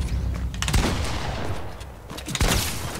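Rapid gunfire from a first-person shooter game, where the player uses shotguns, bursts out in quick loud cracks, with heavy clusters of shots near the start and again toward the end.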